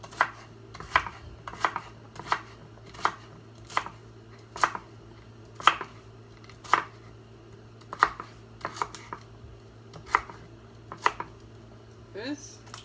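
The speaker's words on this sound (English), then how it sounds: "So we cut it in little bite-sized cubes." A knife chops food into small bite-sized cubes for a whole-plant-based miso soup, sharp regular strokes about once a second against a board, close up over a faint steady background hum.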